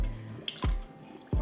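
After a filter change, a Samsung refrigerator water dispenser sputters and spits air, giving two or three abrupt bursts with short gurgling gaps between them. It sounds close and moderately loud, with no talking.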